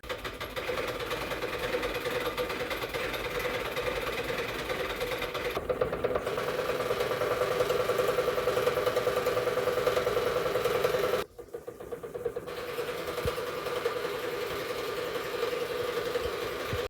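A sewing machine stitches steadily at home, a continuous close mechanical whirr with a fine rapid ticking rhythm, briefly pausing twice before resuming.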